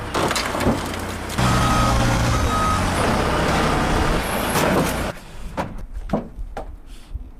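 A forklift rated to lift 6,000 pounds reverses while carrying a car, with loud engine rumble and a couple of short reversing beeps. Creaks and wooden cracks follow, then scattered thuds and knocks as the noise drops away.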